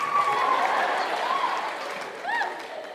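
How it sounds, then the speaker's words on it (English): Women in a stand-up comedy audience cheer and whoop, rising shouts and squeals layered over a broad crowd wash, close and fairly loud, with a brief higher cheer near the end. "Now all the girls are cheering because in theory, that's empowering."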